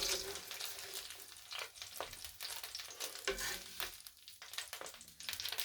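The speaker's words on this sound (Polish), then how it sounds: "I smażymy następną porcję." Vegan beetroot burger patties fry in a pan with a steady, close hiss and crackle of hot oil, spitting in uneven bursts throughout.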